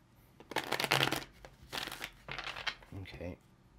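Tarot cards being shuffled by hand in short, close, crisp riffling bursts with papery crinkles, a few quick rounds in a row, with no talking over them.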